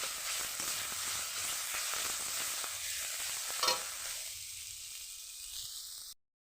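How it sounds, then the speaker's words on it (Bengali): Hog plum (amra) sizzling as it is stirred and fried for a chutney, a steady close frying hiss with scraping stirs and one brief sharper clatter before the sizzle dies away. "এবার ভালো করে নেড়ে চেড়ে ভেজে নেব আমড়াটা।"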